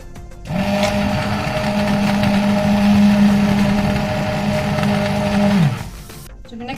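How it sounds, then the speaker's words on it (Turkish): A kitchen blender whirs steadily at high speed, pureeing apricots for a sherbet, starting abruptly after a short pause and cutting off near the end; loud and close, with no talking. "Şimdi iyice ezilmesini sağlıyoruz blenderına."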